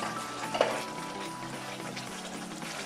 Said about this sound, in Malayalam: ഇനി ഇതിലേക്ക് നമുക്ക് പൊട്ടി വെച്ചിരിക്കുന്ന ഉലുവയും കായവും കടുകും കൂടി ഇട്ട് കൊടുക്കാം